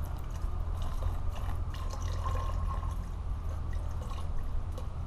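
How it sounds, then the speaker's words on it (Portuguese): Half a litre of alcohol poured into a container of homemade liqueur with currant syrup, a steady continuous liquid pour at close range with a soft gurgling trickle throughout, no voices. "Despejar todo o álcool,"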